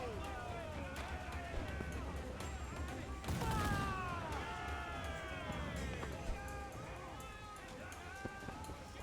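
Ship cannons firing in Assassin's Creed IV: Black Flag, a dense naval battle with several loud booming shots, one big blast near the middle, under shouted crew voices and continuous game ambience.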